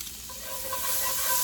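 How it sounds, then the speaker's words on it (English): Steady soft sizzling of minced garlic frying in melted butter in a pan over medium heat, a continuous gentle crackle and hiss, close and quiet. "And just stir that around a little bit, just until it's fragrant."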